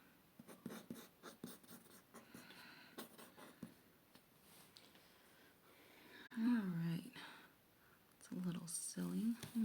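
Pencil scratching and scribbling on paper while signing a fan art drawing of Magilou from Tales of Berseria, soft close strokes in quick bursts, with a person talking quietly at times.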